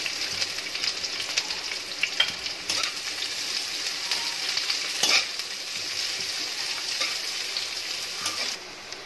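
Chopped onions sizzle steadily in hot oil in a pan for a traditional chicken fry, a close continuous hiss broken by the scrape and clatter of stirring.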